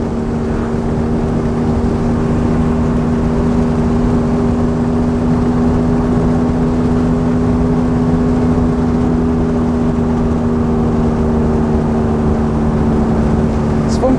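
A 1939 Mercedes 770 open touring car drives through the Bavarian countryside, its large engine giving a steady, loud, even drone with a constant low hum that holds unchanged throughout.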